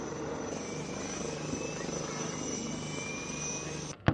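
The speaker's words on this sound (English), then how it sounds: "this HTT-40, which is the state-of-the-art basic trainer jet that is produced completely in India" A HAL HTT-40 basic trainer aircraft at Aero India 2025, a loud continuous propeller-engine drone with a steady whine heard close up, ending in a brief thump at the end.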